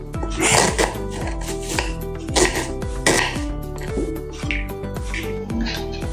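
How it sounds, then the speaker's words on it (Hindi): Onion being chopped on a cutting board with a knife for moong dal pakode, a rapid series of sharp, close knocking cuts in uneven rhythm. "अभी हम काट लेंगे प्याज को।"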